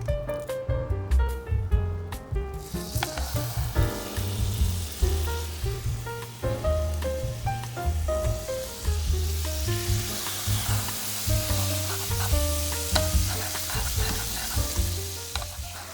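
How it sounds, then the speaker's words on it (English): Salmon fries in butter in a pot, producing a continuous lively sizzle and crackle with occasional stirring and scraping sounds throughout, fairly close and without speech. "and then you're gonna add the salmon next."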